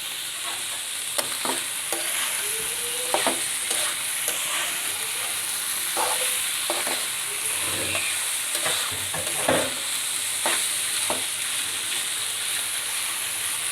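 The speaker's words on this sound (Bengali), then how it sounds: "আর একটু সামান্য ভাজা ভাজা করলেই হয়ে যাবে" Sliced bitter gourd frying in a pan gives a steady close sizzle and hiss, broken by scraping stirs and occasional clinks of the spatula.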